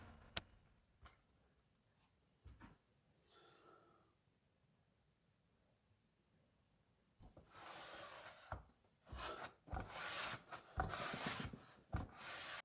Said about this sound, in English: and wipe the squeeze out away